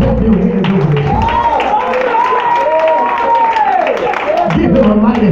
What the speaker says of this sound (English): I said, clap your hands over here.